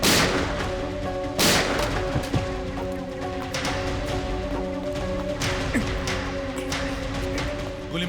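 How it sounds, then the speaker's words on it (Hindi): Shootout gunfire in a CID TV crime drama, several sharp bangs spread across the scene over steady music-like tones and background clatter, fairly loud and close. "गोली मत चलाओ"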